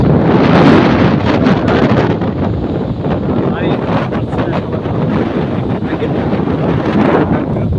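Strong storm wind roars over the Padma river, buffeting the microphone in a loud, continuous rush with gusty surges.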